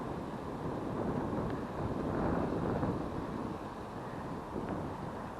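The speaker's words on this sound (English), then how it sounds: "the wind's blowing the bloody great big things over on me" Wind gusts outdoors beside the River Blackwater, buffeting the microphone in a soft, broad rushing roar that swells and eases with no voices.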